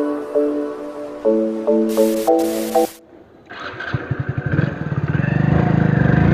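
A motorcycle starts and pulls away on a short ride. Several short electronic beeps come first, then the engine fires and settles into a close, rapid, rising putter as it gets moving.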